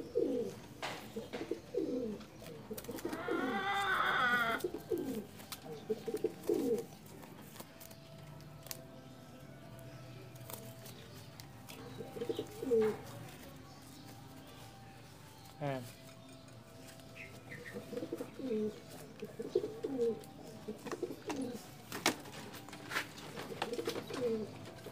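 Cooing from a small flock of young pigeons, rhythmic repeated low coos throughout, with a brief fluttering flurry early on, some clinking and background human voices.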